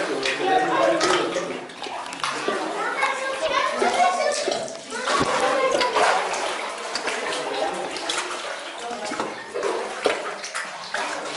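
Water running and splashing inside old Roman baths at Manilva on Spain's Costa del Sol, a steady wash of flow filling the space while children and other voices chatter and echo throughout.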